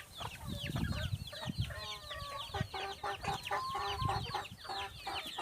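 Farmyard chickens clucking repeatedly at close range, a busy run of short, rising calls with low rustling and thumps beneath.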